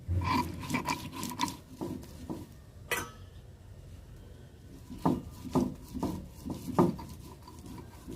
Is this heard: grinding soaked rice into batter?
yes